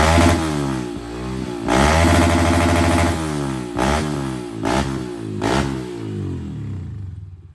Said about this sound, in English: throttle response is way better now on the bike, and the rev limiter is a lot more tasty